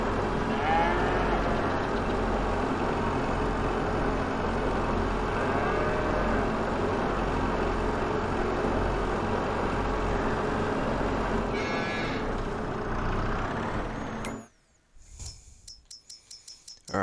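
Cows lowing inside a cow barn in Farming Simulator 22, repeated moos over a busy, dense background of barn noise for most of the stretch, which cuts away to near silence with faint ticking at the end.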